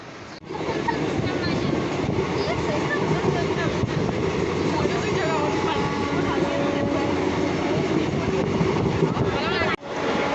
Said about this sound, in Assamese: চ' আমাৰ ট্ৰেইনখন আহি আছে আৰু।